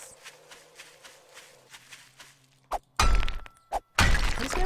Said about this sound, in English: And I hear footsteps.